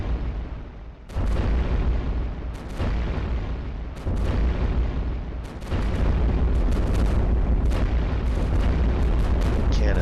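Heavy booming blasts from level 3 cannons in the video game iBomber Defense fire again and again over a dense, rumbling din, loud and close, with brief lulls between bursts.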